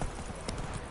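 Horse hooves clip-clop in a quick trotting rhythm in a video game, close and clear over a steady background bed.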